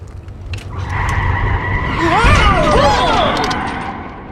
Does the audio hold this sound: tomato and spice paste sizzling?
no